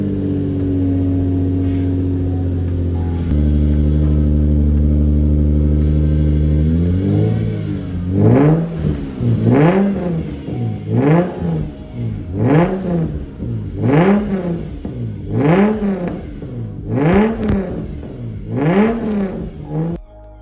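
A 2JZ engine swapped into a Lexus IS300 idles loudly through a makeshift exhaust, then gets blipped in a series of about nine sharp, evenly spaced revs that rise and fall, close and raw.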